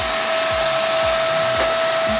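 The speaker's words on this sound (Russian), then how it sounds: "Вот здесь вот я сейчас буду пылесосить." A new vacuum cleaner runs steadily at close range in a home, a loud continuous whine with a high tonal hum and no speech over it.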